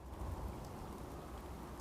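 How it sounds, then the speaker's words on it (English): Rain falls in Fallout 4, a soft continuous wash of drizzle with faint low rumbling underneath, quiet and without speech. "Actual rain instead of, a radiation storm is kind of nice."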